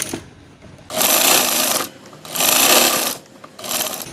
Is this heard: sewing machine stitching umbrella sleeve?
yes